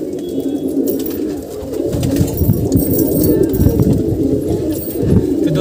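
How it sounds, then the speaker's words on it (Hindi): A wild green pigeon coos close by in repeated low, throaty rolls, loud and fairly continuous, with a little room noise around it. "ये दोस्तों नॉर्मल एक हरा जंगली कबूतर है।"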